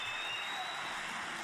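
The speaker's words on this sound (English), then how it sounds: "he's popped the green, and you can hear from the roar in the crowd" Crowd roaring and applauding in a snooker arena after a green ball is potted in the final of the 2022 Northern Ireland Open, a steady dense wash of cheering and clapping that fills the whole moment.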